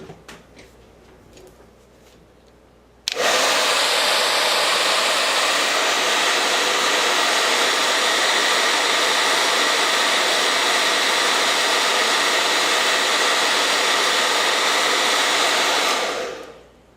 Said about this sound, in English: I want to just hit it with the blow dryer to dry it a little bit.